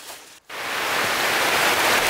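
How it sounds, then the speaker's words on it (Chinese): Heavy rain in a forest during a field survey for pangolins in Taiwan, a dense steady hiss that swells after a brief dip and then pours on loud and continuous, with no voices. "没想到这时大雨又来报道"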